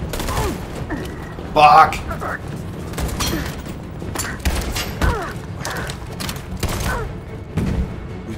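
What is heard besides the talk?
pistol shots in video game Detroit: Become Human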